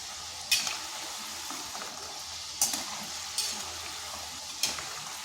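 Palm-flour sweets fry in hot oil with a steady low sizzle while being stirred, with a few sharp scraping clinks of the utensil against the pan at irregular intervals.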